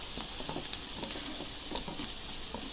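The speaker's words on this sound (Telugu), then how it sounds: "ఇది కొంచెం ఎర్రగా వేగాలండి." Onions sizzle and crackle in a pan for mushroom curry, giving a soft, steady hiss with scattered pops, faint and close.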